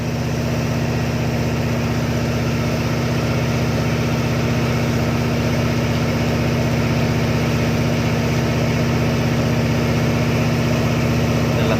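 Tugboat diesel engine running hard while overtaking a fishing boat at the Pattani Bay mouth in the Gulf of Thailand, a constant heavy low drone with steady vibrating hum, close and loud, with no talk.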